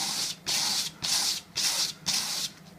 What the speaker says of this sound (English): give it a good sand down